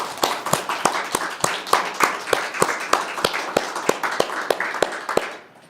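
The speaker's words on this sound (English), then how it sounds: "let's have another round of applause for all of our readers." A single person claps steadily, roughly four claps a second, each clap sharp and distinct, close and fairly loud. The clapping runs unaccompanied after an open mic reading showcase and stops abruptly near the end.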